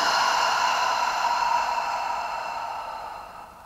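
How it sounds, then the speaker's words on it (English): A long, deep exhale during a yoga practice, a steady breathy rush of air that is close and fairly loud, slowly fading over a few seconds, with no talk. "take a really deep breath in. And then exhale."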